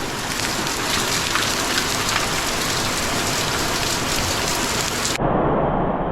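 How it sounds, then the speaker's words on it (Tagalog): Heavy rain pours steadily onto a farm plot during a week of bad weather, a dense, loud, continuous hiss that drops sharply in intensity near the end. "Lalo nang lumakas yung ulan mga kautol."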